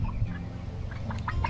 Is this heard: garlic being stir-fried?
no